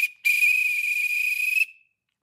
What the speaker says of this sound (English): The whistle has an extra thing on the inside with a ball that will spin.